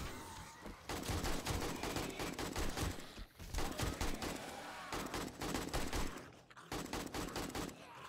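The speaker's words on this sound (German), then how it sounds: "Ich schieß voll durch die Leute durch." Bursts of rapid gunfire in the zombie survival game 7 Days to Die, loud dense volleys with short pauses between them.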